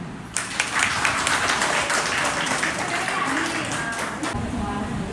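A church congregation claps together in a dense, sustained wash of applause that starts abruptly and continues, with a voice talking over it.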